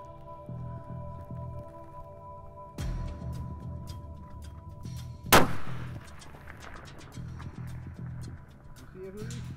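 A single extreme long-range rifle shot at a shooting range cracks out sharply mid-clip, rising above quieter outdoor background and faint rustling, with a brief decaying rumble after the report.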